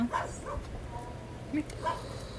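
A dog gives a few soft, faint whimpers and short yips at a distance in an outdoor setting, broken up by pauses, under a low steady background hum.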